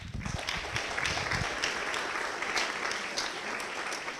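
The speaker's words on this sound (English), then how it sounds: "So a round of applause for that." A seminar audience gives a round of applause, dense and steady clapping from many hands filling the room for about four seconds at moderate volume, with a few low thumps early on.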